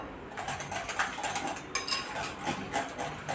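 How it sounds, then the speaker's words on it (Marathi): A spoon whisks curd smooth in a bowl, giving rapid, repeated clinking and scraping strokes in an uneven rhythm, close and continuous with no talking. "हे बघा दह्याचे लम्स नको राहायला अशा गाठी छान असं फेटून घ्यायचं एक सारखं"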